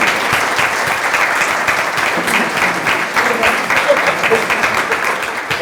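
Sustained audience applause for a trial prosecutor at a jury-trial discussion event: dense, steady clapping from a sizable crowd that holds at an even loudness for the whole stretch.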